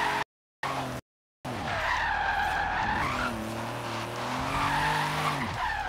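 Tires squeal and skid as a car drifts in Forza Horizon 3, wavering screeches over a steady engine drone, loud and continuous after two brief dropouts at the start.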